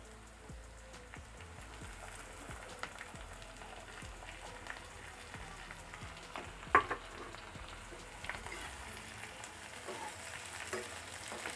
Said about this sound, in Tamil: அதையும் நல்லா வதக்கிக்கோங்க.